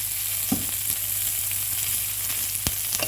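Onions fry in a spoonful of oil in a pan, a steady dense sizzling hiss up close with a couple of sharp utensil taps.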